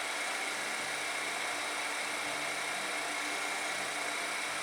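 Electric motor running on line voltage through a contactor during a DC injection brake test, heard as a constant, faint whirring hum with a broad hiss, steady and unchanging throughout.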